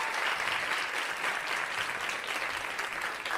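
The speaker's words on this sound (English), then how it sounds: "New York City, a round of applause" A comedy club audience in New York City at a stand-up show breaks into steady, dense applause that stays loud and even throughout, with no talking over it.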